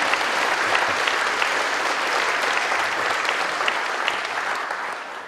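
A concert crowd at a classical Christmas evening breaks into warm, full applause, a thick continuous roar of many hands that holds steady and tapers off slightly at the close.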